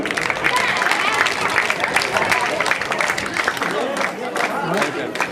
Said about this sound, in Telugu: చప్పట్లతో స్వాగతం.